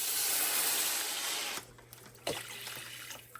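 Water is poured into a charred non-stick cooking pot, a steady hissing splash that stops abruptly partway through, followed by faint drips and a soft clink.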